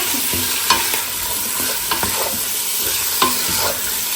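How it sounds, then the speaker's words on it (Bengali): Chicken with onion, ginger and garlic paste sautés loudly in a pan, a dense sizzle punctuated by repeated scraping and clacking strokes of a spatula. "এখানে পেঁয়াজ আদা রসুন পেস্ট আর চিকেনটা দিয়ে একটু কষাই নেব"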